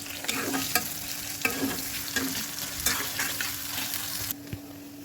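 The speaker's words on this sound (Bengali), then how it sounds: "লাল যে ছোট আলুটা এই আলুটা দিয়ে এই মাংসটুকু বোনা করব" Chicken pieces frying with small red potatoes in a pan, a steady close sizzle broken by repeated scraping stirs of a spatula, with no talking.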